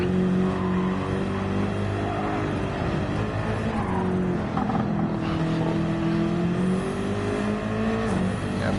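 A race car in Gran Turismo 7 brakes hard on a dark track, its engine droning loudly and steadily with a falling pitch and tyre noise, and no voices over it.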